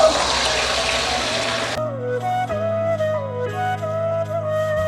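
Water is poured into a chickpea and potato curry in the pan, a loud rushing splash for under two seconds that cuts off abruptly, followed by tuneful music.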